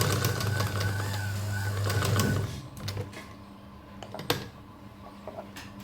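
A sewing machine stitches along the edge of a kurti, its close, rapid mechanical whir running steadily for a couple of seconds before stopping, followed by quieter clicks and fabric handling.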